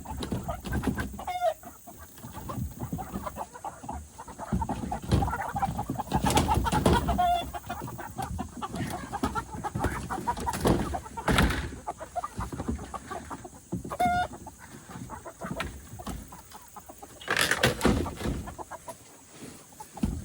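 Laying hens in a backyard chicken coop cluck and call repeatedly at moderate volume, with scattered bird sounds, rustling and handling noises around them.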